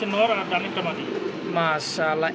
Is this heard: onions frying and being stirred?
no